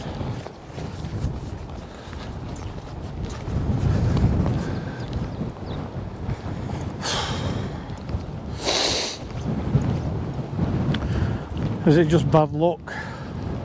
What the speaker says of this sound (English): Bloody wind.